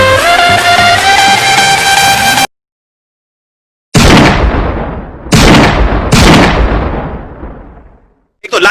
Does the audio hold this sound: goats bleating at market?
no